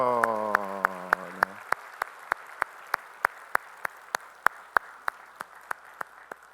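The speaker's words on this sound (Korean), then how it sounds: "우리 박수하시죠." A church congregation at a Sunday worship service welcomes visiting elders, with a sustained voice ending early and then steady, evenly spaced claps at a regular rhythm over soft background clapping.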